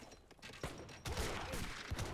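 Cannons fire in a strategy video game as a quick burst of booming shots and crackling impacts, a few separate blasts followed by a denser volley, at moderate loudness with no talk.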